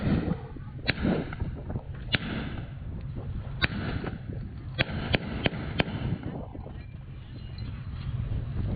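M1 Garand rifle fired at a weapons demonstration, sharp distant cracks spaced irregularly, several in a quick cluster, over a steady outdoor rumble.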